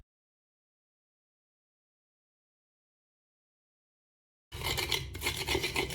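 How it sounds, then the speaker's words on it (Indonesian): Galangal root is grated by hand in quick rough rasping strokes that begin suddenly after a long silence and run close and steady for the last second and a half. "Saya parut dulu lengkuas."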